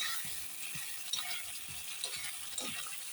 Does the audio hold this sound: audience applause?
no